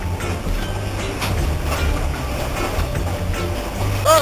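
An Indian passenger train rolls along with a steady, dense rumble and clatter of the railcars. Near the end comes a brief tonal whine or horn-like sound.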